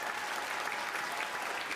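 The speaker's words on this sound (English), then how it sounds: "Big round of applause." Applause from the audience at a congressional district swearing-in ceremony at UCLA, a steady, dense clapping that fills the whole moment without talk.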